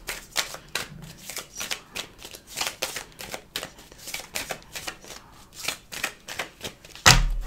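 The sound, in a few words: tarot cards being shuffled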